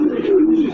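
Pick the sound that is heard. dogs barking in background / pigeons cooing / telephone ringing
pigeons cooing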